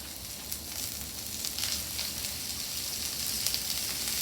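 Steak strips for fajitas, seasoned with fajita seasoning, sizzling in olive oil with a steady close crackle and a few sharper pops, no voices.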